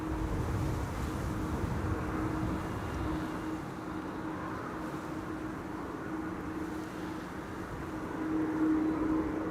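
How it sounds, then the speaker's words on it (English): A KLM Boeing 737-900 arriving from Berlin at Amsterdam Schiphol, heard as a steady, broad jet roar with a low engine hum that holds at a constant level throughout, without any talking. "KLM flight 1772, arriving from Berlin."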